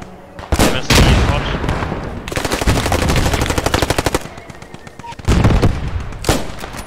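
Machine gun fire from the video game Post Scriptum rips out in loud, rapid automatic bursts: a short burst, a long sustained stream of shots, then several more bursts near the end.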